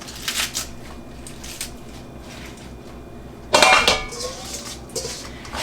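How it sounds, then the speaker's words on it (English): Vegetables roughly chopped for dal in a home kitchen: a few sharp knife-on-board clacks, then a louder, denser burst of chopping midway, close by, with no talking. "So I'm not worried about chopping these precise."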